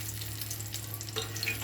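Masala spices sizzle in hot oil for an egg curry, a steady soft frying hiss with faint crackles and a low hum throughout, no voices.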